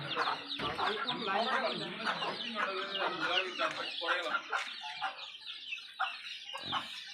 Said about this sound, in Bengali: এই হচ্ছে মুরগি নিচে হচ্ছে মুরগি সিস্টেম